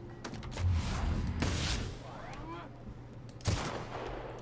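Gunfire pops in The Outer Worlds, scattered shots and a short burst amid mechanical clanks and a whooshing sweep, moderately loud with a final sharp shot, faint voices underneath.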